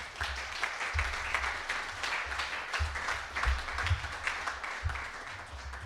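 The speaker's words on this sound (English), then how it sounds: "Let's give a round of applause for Martin Luther King." An audience claps steadily in a sustained round of applause, moderately distant and fairly even throughout.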